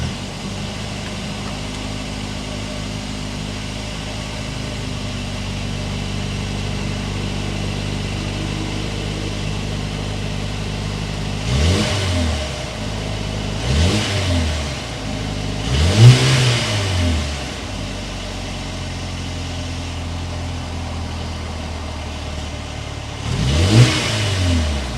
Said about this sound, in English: Let's hear how that turbo sounds.